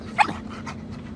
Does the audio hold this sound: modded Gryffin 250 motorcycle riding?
no